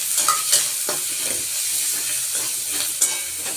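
Spices go into a hot pan for egg yolk curry, and steady frying sizzles loudly throughout with a few soft stirring scrapes, with nobody talking.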